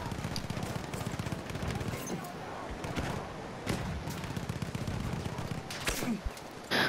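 A Martini-Henry rifle fires in Battlefield 1, with a few sharp, widely spaced single shots cracking over a constant din of distant battlefield gunfire, while someone talks quietly underneath.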